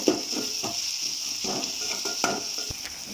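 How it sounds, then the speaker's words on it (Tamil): Tomatoes sauté in a pan while vatha kuzhambu is being cooked, giving a soft continuous sizzle with occasional light stirring scrapes, moderately quiet and with no voice. "தக்காளி நல்லா வதங்கட்டும்."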